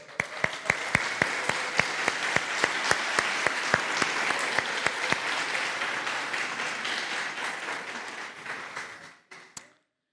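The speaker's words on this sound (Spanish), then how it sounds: "Un aplauso para las mujeres." An audience at a church talk applauds steadily for several seconds, with sharp, evenly spaced claps standing out over the crowd. The applause then thins out and fades away.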